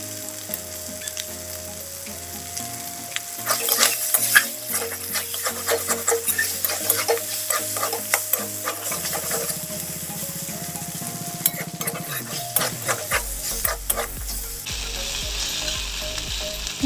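A fish head sautéing in a pan, with a steady sizzle under rapid repeated scraping and clattering stirs that come in bursts through the middle, then quieter frying with a low hum.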